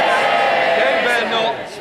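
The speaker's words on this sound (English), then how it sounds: "Mr. Speaker, they're cheering so loudly." Members of the House of Commons cheer loudly as a dense, roaring crowd, with a voice talking through the din before it fades slightly.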